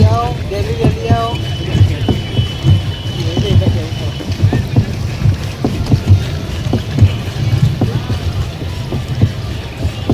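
A pedal boat moves across water at Mount Abu with irregular sloshing, knocks and rumbling from the hull and pedals, partly buffeted by wind, while people talk over it.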